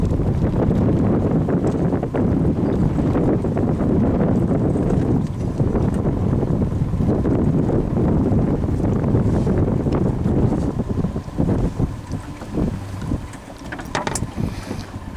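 Floatplane landing on water on its first flight on floats, a loud, steady engine drone with wind buffeting and water rush that eases and becomes choppier near the end.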